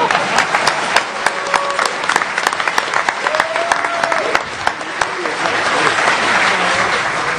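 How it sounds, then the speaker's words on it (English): Audience at the DEF CON 15 hacking conference breaking into applause, a dense, sustained clatter of many hands clapping with sharp individual claps, loud and continuous, while voices call out over it. "Everybody want to clap for Dan Kaminsky"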